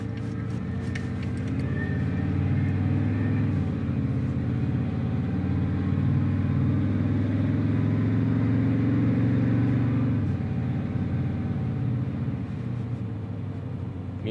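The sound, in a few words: power steering pump whining on a dually truck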